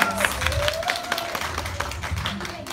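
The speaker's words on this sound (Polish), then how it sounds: "brawa dla was!" Audience at a Polish school's first-grade pledge ceremony clapping for class 1C, a brief patter of scattered hands heard in a hall, with a voice speaking over it.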